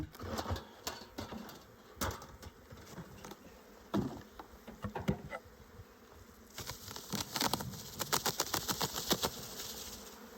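Honeybees buzz around a hive opened for a spring inspection, a steady close hum with sharper buzzes as individual bees pass near, growing busier in the later part alongside light handling noise.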